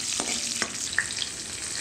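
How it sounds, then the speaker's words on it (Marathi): Green chillies fry in a pan for a rustic Maharashtrian vegetable dish, giving a steady close sizzle with a few soft scrapes of stirring over about two seconds. "मिरची 1-2 मिनटं आपल्याला परतून घ्यायची."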